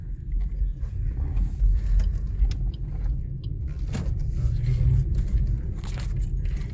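Car coasting in neutral along a mountain road among pine trees: a steady low rumble of tyres and chassis with faint rattles and small knocks, continuous and close from inside the vehicle, no talk.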